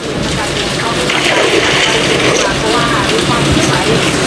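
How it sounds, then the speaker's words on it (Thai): Rain falls in Minecraft with the Zebra shader on mobile, a loud, constant hissing patter that runs unbroken throughout, with a voice talking faintly beneath it. "ถามว่าพี่เสียงโซซ่าโซซ่านั่นมันอะไรฝนตกครับ"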